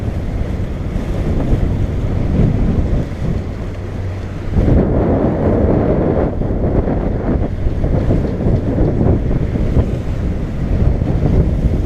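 Strong wind of about 25 knots roars across a boat sailing in New York Harbor near the Statue of Liberty. A loud, steady buffeting rush mixes with water noise and heavy microphone wind noise and never lets up.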